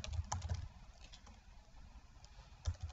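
Soft typing on a computer keyboard while entering a name into a website contact form, light clustered keystrokes at the start and end with a quieter stretch between, close and faint.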